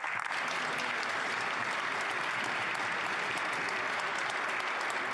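Sustained applause fills the House of Commons chamber, a dense, even wash of many hands clapping from a distance, steady throughout with no speech over it.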